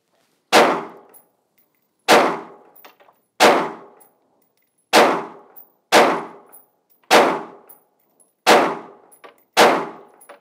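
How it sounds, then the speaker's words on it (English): Green-tip M855 rifle rounds striking a ceramic strike-face armor plate at a firing range, eight sharp, loud cracking impacts at roughly regular intervals of one to two seconds, each decaying quickly, with no talking. "So what we're gonna do is we're gonna dump some rounds downrange and see how she does."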